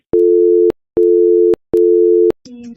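A telephone busy tone after a call is cut off, sounding three loud, evenly spaced steady beeps, each about half a second long with short silences between, followed by a faint trailing sound.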